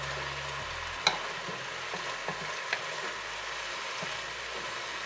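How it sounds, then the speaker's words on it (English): Eggplant being stirred into a pan of pinakbet, a faint steady sizzle with a few soft utensil clicks against the pan, fairly quiet throughout. "and then add the eggplant. And stir it."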